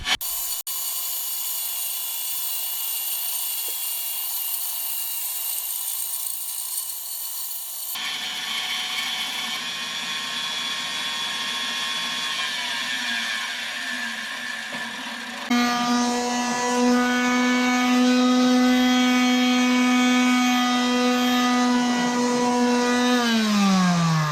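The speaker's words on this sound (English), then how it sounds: "Using the bandsaw to cut tapers on the bottom of the legs, just for a little bit of accent." A bandsaw cuts tapers on wooden table legs, a steady mechanical whine and blade hum that shifts in pitch across three segments, rising in loudness near the end.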